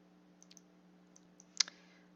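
Faint computer mouse clicks while approving an expense record: a few soft, small ticks early on, then one sharper, louder double click near the end over a quiet low hum.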